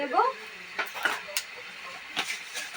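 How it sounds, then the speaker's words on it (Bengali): Faint, sparse crackling and light scraping of cumin and coriander seeds dry roasting in a pan, with a few brief clinks and a quiet voice at the start. "যখন একটু একটু টিপ টিপ শব্দ হবে তখনই নামিয়ে ফেলতে হবে এরকম শব্দ হচ্ছে আমার ভাজা হয়ে গেছে"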